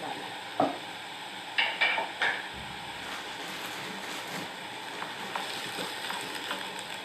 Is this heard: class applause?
no